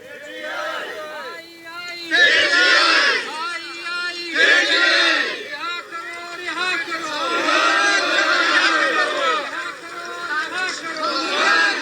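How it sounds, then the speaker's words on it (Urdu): Crowd at a street rally in Balochistan chanting slogans, a dense, loud mass of voices rising and falling in repeated surges, with some shouted bursts standing out over the steady babble. "یہ سنیے، یہ بلوچستان سے نعرے لگ رہے ہیں"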